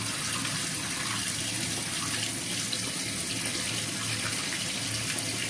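Tap water pours steadily into a bath holding a bubble bar, a constant close hiss and splash with no pauses.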